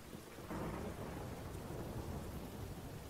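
Rain and thunder in a roleplay video game: steady rainfall hisses while a low thunder rumble swells in after half a second and rolls on, with no talking.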